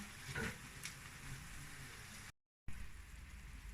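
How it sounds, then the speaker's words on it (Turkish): Onions sautéing in olive oil in a pan, a faint continuous sizzle with a few utensil knocks near the start and a brief dropout, no talking. "E, soteliyorum soğanlarımı sotelenecek"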